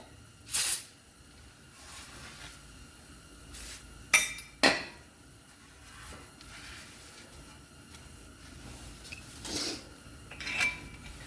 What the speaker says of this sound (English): Go ahead and give it one more spray.